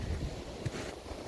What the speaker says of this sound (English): It's windy as heck, but it is gorgeous.